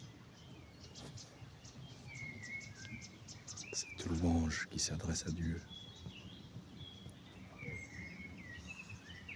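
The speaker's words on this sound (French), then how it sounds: "des oiseaux." Birds sing in the early morning with scattered chirps and tweets, some near and some farther off. Someone speaks French over the middle of the birdsong.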